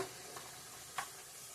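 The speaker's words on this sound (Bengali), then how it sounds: "ভালো করে কষিয়ে নিব মশলাটা" Spice masala with salt and cumin powder fried in a pan, a soft continuous sizzle with one brief stirring scrape near the end, fairly faint.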